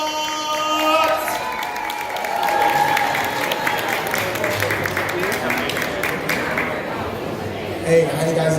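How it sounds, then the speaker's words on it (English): Crowd applause and cheering at a vegetarian festival swell to welcome a former professional basketball player to the stage, a steady dense clatter of many hands with scattered cheers, sustained throughout with light voices mixed in. "please, I want you all to give a humongous round of applause for Mr."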